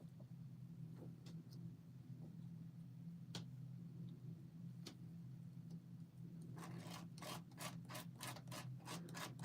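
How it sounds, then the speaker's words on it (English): Scraping crafting medium off a lace stencil: a faint, steady low hum gives way to a run of rhythmic, close rasping strokes toward the end, with a few isolated clicks earlier and no talking. "Just scraping it off my stencil now."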